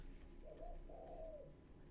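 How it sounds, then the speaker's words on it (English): Outside a window in the morning, a bird gives soft, low coos in two drawn-out phrases, faint and somewhat distant over a steady background hum. "It's just some random bird that's outside my window every morning during every stream."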